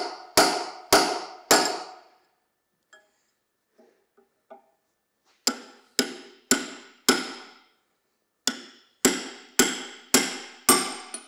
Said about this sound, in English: I'm going to try to take a punch and see if I can drive these out